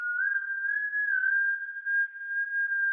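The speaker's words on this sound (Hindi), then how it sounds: "उसे अपने कानों के पास एक सीटी की धुन" A steady, high whistle holds one sustained tone with slight wavering pitch, clear and close, with no other sounds around it.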